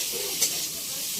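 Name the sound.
cumin powder frying in oil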